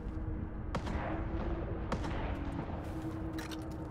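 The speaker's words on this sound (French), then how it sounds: "Ça tire de l'autre côté là-bas." Distant gunfire in STALKER 2, scattered sharp shots and short bursts cracking over a dense rumbling backdrop, somewhat far off and irregular.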